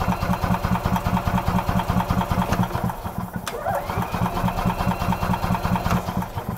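A 2013 EZGO RXV gas golf cart engine with a no-spark fault cranks over close by, giving a loud, steady chugging pulse that runs continuously with only a brief dip midway.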